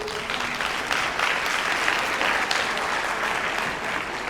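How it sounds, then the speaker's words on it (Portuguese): Audience at a talk on artificial intelligence clapping steadily in a dense, even wash of applause that keeps going at a moderate level, with no voices over it. "Muitos aplausos,"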